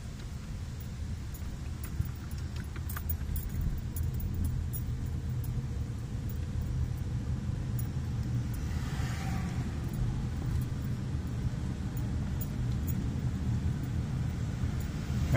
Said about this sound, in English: I would appear to be rolling backwards uphill, gaining speed